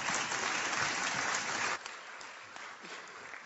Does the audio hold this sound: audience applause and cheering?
yes